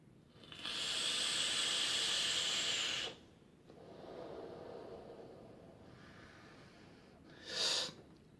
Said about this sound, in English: I'm just sat here having a vape